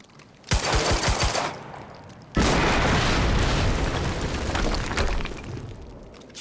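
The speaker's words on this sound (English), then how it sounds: "HQ, we just heard an explosion near the harvesting perimeter" A burst of rapid gunfire-like pops gives way to a sudden heavy explosion in the video game Quantum Break, its booming roar filling the scene and slowly rumbling down over several seconds.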